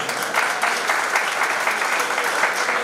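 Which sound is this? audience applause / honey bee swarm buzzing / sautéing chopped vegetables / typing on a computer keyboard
audience applause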